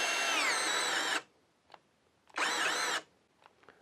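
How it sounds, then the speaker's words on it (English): A Hyper Tough brushless two-speed drill, older version, whirs in high speed in two short bursts, each running about a second, separated by quiet clicks and handling noise. "Hyper Tough brushless two-speed drill, the older version. Set in high speed."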